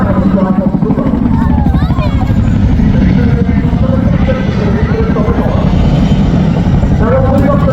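An RAF Chinook helicopter flies a display at the 2023 Southport Airshow, its loud, steady rotor thump carrying continuously beneath a voice talking over it.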